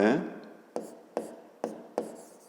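Pen or pencil writing by hand on paper during a fifth-grade geometry exercise, giving four short scratchy strokes at a steady, even pace, close and fairly clear.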